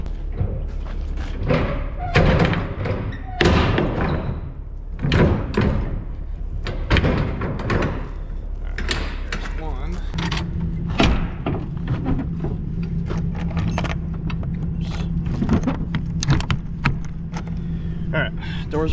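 Heavy trailer doors are swung shut, giving a few loud metallic thumps and slams close by, mixed with handling clatter and people talking nearby.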